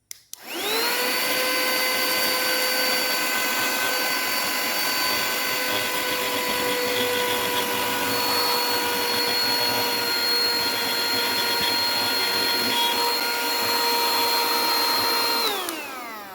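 A vacuum cleaner sucking up spilled rice grains runs loud and close with a steady high-pitched motor whine, starting abruptly, holding level for about fifteen seconds, then winding down.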